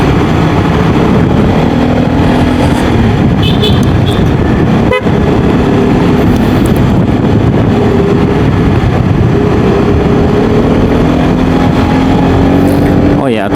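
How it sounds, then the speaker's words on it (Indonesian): A Yamaha Xmax scooter engine, slightly rough-sounding, runs steadily and loudly while being ridden, a continuous close drone throughout with a brief click midway, under a rider's talk. "suara motor agak sedikit lebih kasar ya kalau menurut saya ya. Tapi lebih berasa suara mesinnya sih."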